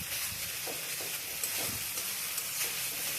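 Spice masala sautéing in a pan for chhanar kofta, a continuous dense sizzle with soft scraping strokes of a spoon stirring through it, close and even in level.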